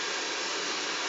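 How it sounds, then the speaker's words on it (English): A hair dryer runs at full power and mid-heat, giving a steady, close, loud whooshing blow with no change in pitch and no talking. "I have my hairdryer up full power"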